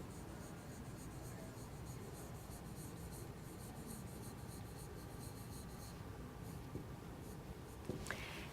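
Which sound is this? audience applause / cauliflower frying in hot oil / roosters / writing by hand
writing by hand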